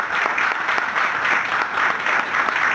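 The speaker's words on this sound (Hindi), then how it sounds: "जोरदार ताली हमारे सभी नए लोगों के लिए।" Loud, dense applause from a seminar audience welcoming new attendees, a steady burst of many hands clapping close by with no voices over it.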